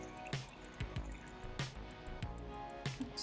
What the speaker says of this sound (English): Now let's pour it in and agitate for the first 15 seconds.